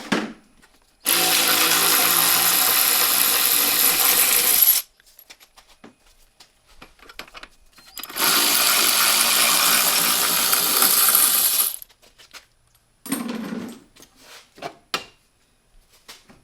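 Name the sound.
removing brake caliper bolts with a ratchet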